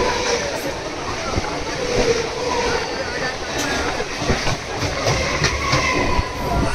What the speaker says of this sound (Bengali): নৈহাটি জংশন থেকে আমাদের ট্রেন ফাইনালি ছেড়ে দিয়েছে